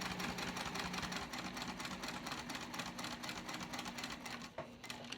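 A sewing machine stitches a crossbody bag, running in a fast, even rattling rhythm that holds steady for several seconds at low volume before a brief pause near the end.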